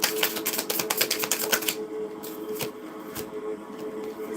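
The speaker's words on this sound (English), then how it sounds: "Cards are hard to shuffle sometimes." Playing cards, likely tarot cards, shuffled close by: a quick riffle of dense crisp flutters for nearly two seconds, then a few softer scattered card snaps and slides.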